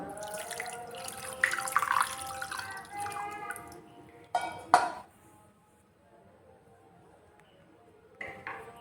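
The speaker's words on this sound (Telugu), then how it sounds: "కొన్ని నీళ్ళు పోసుకుంటా దీనిపైన" Water splashes and trickles over freshly ground lentil paste while bachhali kura is prepared, with a few louder pouring bursts, a clatter of the vessel and quieter stretches between.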